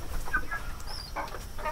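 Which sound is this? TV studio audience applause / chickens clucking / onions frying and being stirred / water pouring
chickens clucking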